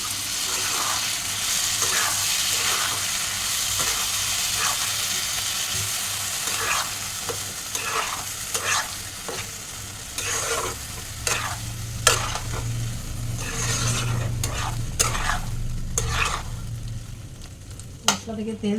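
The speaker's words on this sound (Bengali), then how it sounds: "দিয়ে সবগুলো মশলা একসাথে কষিয়ে নেবো।" Spices frying in a pan with cashew, raisin and green chilli paste plus a little water, a continuous hiss and sizzle broken by frequent spatula scrapes and clinks, with a low hum underneath.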